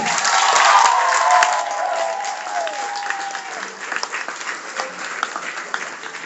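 Audience at a mid-year NeoLife rally breaking into loud sustained applause with some cheering, a dense wash of clapping from a large crowd that peaks early, then tapers slightly while continuing to the end.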